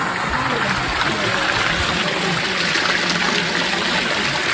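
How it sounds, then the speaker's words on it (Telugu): Water flowing in a stream at the Kumbajari Koti Shivalingalu site near Adilabad, a loud, steady rushing wash close by, with a voice talking over it. "అక్కడ చూడండి ఒకసారి వాటర్ ఇట్లా ఫ్లో అవుతుంది"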